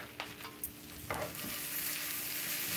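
Raw coleslaw vegetables, carrots among them, tossed in a bowl: a few quick scrapes and clatters, then a soft, steady rustling hiss, close and quiet.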